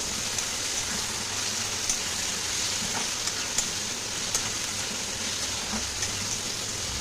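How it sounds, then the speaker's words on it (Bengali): Pumpkin with red chili powder is stirred in a hot pan, giving a constant, even frying hiss with a few faint scrapes and taps, steady throughout with no talking. "তো এবার একটু এটা নাড়িয়ে দেবো।"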